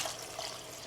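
Water pours into a pot of beans for vegan chili, a short continuous splashing trickle, close and steady.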